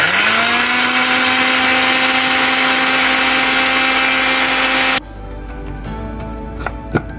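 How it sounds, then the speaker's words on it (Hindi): An electric grinder whirs loudly and steadily for about five seconds while grinding panjiri ingredients to a fine powder, then stops abruptly, followed by light clattering and a sharp knock. "इसको आपने सिर्फ पीसना है"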